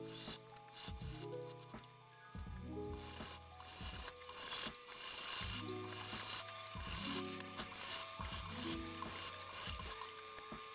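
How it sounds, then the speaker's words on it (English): A sewing machine straight-stitches through thick, textured scrap fabric, running in repeated bursts of rapid mechanical whirring and ticking with short pauses between runs, close and steady. "I'm just doing a straight stitch at the, I think 3."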